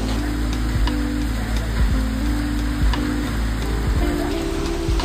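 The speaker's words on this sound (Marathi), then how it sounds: "पाऊस तर खूप आहे" Heavy rain falls outdoors near Karnala Fort and its bird sanctuary, a dense, constant hiss with scattered louder patters, with no voices over it.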